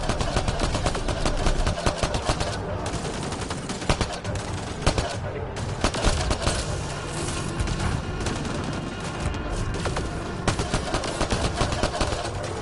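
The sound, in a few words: gunfire in the video game Mass Effect Andromeda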